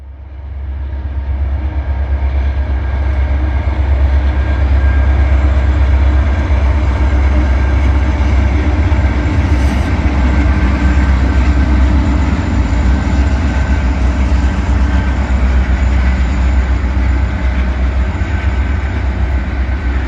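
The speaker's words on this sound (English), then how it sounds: "This switcher is actually a yard job out of Eugene." A switcher locomotive working a yard job rumbles past close by, a loud, sustained low roar with steady rolling noise that builds quickly and holds for the whole stretch.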